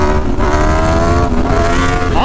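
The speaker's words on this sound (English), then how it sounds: "I really wanted to see what this Tuono sounded like with this exhaust" An Aprilia Tuono Factory motorcycle fitted with an SC Project S1 exhaust revs loud and close, holding a throaty, sustained engine roar that rises slightly near the end.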